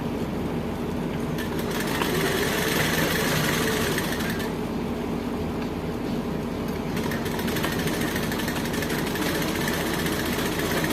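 A sewing machine stitches a blouse sleeve, its motor running in a continuous, even whir with slight surges, close and steady throughout with no talking.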